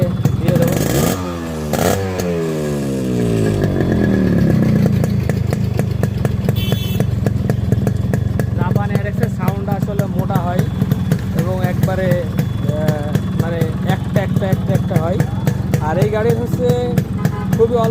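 Japanese Yamaha RXS 115 motorcycle in fresh condition, engine idling: a steady mid-pitched running hum with a rhythmic, rattling two-stroke patter, heard close while someone talks over it for most of the time.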